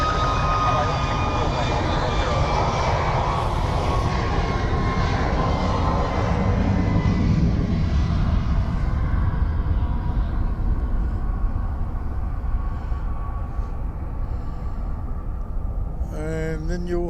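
Aircraft of flight OD 178 at Melbourne Airport, a loud broad engine roar that swells and then fades over several seconds, with talk over it.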